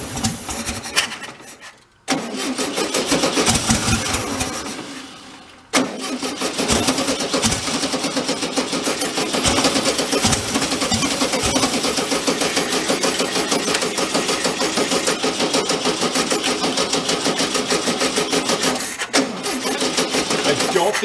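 A rescued 1974 VW Karmann Ghia engine sputters to life at its first start, running on fuel dribbled into it, with a loud continuous clattering drone that steadies after brief cutouts near the start.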